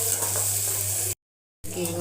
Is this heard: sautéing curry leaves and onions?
yes